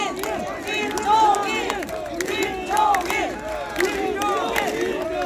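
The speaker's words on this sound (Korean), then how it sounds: "김정일 위원장님께 박수" A crowd at an outdoor election campaign rally claps and cheers in surging bursts, with voices shouting and calling out over the steady applause.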